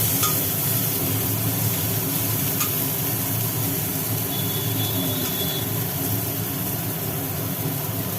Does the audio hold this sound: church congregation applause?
no